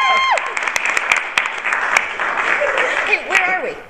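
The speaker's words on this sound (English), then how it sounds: "You can clap." Live theater audience at a show taping applauding: sustained, fairly loud crowd clapping with sharp individual claps and whoops on top, and voices mixed in.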